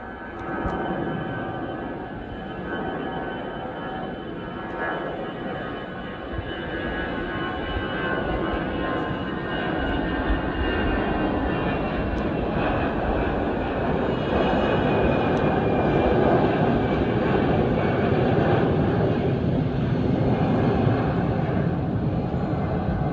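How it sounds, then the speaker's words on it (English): A Croatia Airlines Airbus A319 jet at Heathrow Airport passes overhead, a loud, steady broadband engine roar that builds gradually and holds throughout, with no talk. "Now we have a Croatia Airlines Airbus A319 returning home to Zagreb."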